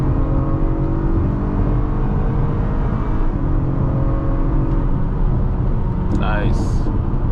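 A 2021 Acura RDX pulls away in sport mode, its engine a steady droning hum under continuous cabin road noise, with a brief rising tonal sweep near the end.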